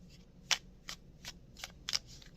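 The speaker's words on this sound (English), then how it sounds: "Gonna shuffle it nicely." Tarot cards are shuffled by hand, giving a series of crisp, papery riffles and slaps at irregular intervals, close and quiet, over a low background hum.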